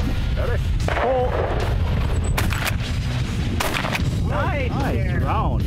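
Pump shotgun blasts at sporting clays outdoors, loud booming reports that ring out over steady wind noise, with people talking and calling between shots.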